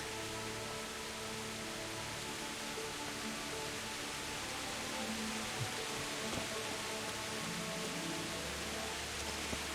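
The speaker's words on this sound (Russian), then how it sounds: "Дождь идет." Steady rain falls in the medieval world of the video game Kingdom Come: Deliverance, a dense even hiss broken by a few faint thuds and quiet game sounds.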